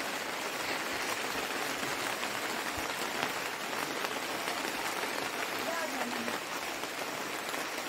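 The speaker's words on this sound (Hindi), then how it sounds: "तो बारिश भी तो हो रही है" Steady rain pours down, a dense continuous patter on surfaces, close and fairly loud throughout, with a faint voice briefly under it.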